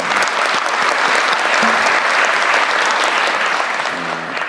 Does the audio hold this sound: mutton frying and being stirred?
no